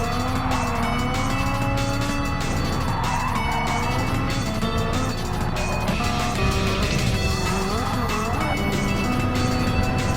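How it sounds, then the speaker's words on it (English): Fast race cars roar through a racing video game, engines loud and continuous throughout with rising and falling pitch as they shift, over a dense mix of game sound. "these are fast cars"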